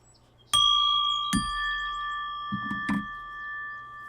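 A bell rung once and then again, each strike sharp with a long, clear ringing tone that sustains over quiet room noise, with faint soft knocks afterward.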